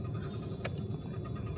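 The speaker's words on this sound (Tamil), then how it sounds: "இந்த மெட்ரோ கட்டுறதுனால நம்மளுக்கு ஃபுல் டிராஃபிக் தான்." Congested road traffic beside metro construction work in Pallavaram: a constant low rumble of engines and tyres, with one brief sharp click or clank midway and no voices.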